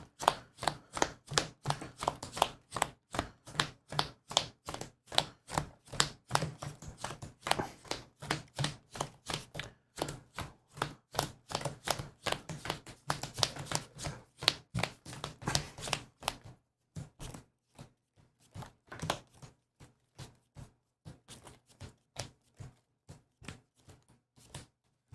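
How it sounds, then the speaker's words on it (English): A deck of cards from the Lord of the Rings card game is riffled and bridged over and over, crisp rapid fluttering bursts in a steady rhythm, then sparser taps and shuffles near the end, close and fairly quiet. "let's get it shuffled"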